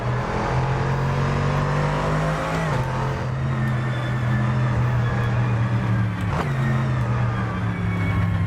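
Dodge Viper race car engine in a GT2 racing video game holds a loud, continuous drone, with shifting pitch and brief gear-change dips as it accelerates, with no talk over it.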